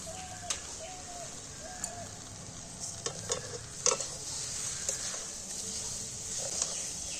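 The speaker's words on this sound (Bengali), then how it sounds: "এবার নাড়তে চাপতে থাকবো, চিনিটা আস্তে আস্তে গলতে থাকবে।" Sugar melting in a pan for homemade pickle is stirred with a utensil, giving a soft continuous hiss with scattered light scrapes and taps, while a dove coos faintly in the background at intervals.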